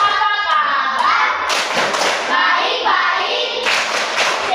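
A class of children chants a greeting clap game together, their voices loud and close, punctuated by sharp bursts of group clapping in rhythm.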